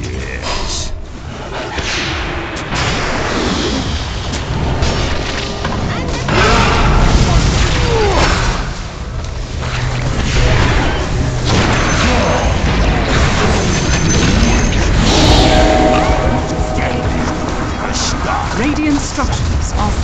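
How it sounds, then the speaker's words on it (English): The enemy's middle tower collapses in Dota 2 with repeated heavy crashes, booms and whip-like cracks amid dense battle noise, while voices talk throughout. "The enemy's middle tower has fallen."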